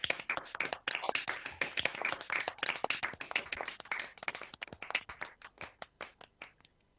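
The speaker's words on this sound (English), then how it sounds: "Please unmute yourselves and clap and cheer for each other." Online graduation attendees at a Welsh School of Architecture celebration clap over open microphones, a dense patter of distinct close hand claps from several people that thins out toward the end.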